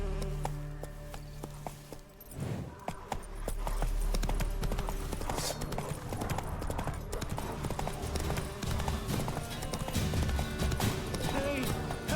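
A horse gallops in The Witcher 3 with a steady, close clip-clop of hooves, set against buzzing insects and ambient outdoor game sounds.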